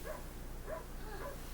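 Puppy yips and small barks from a 1992 horror film, three short high-pitched calls spaced across a steady background hum, faint and somewhat muffled.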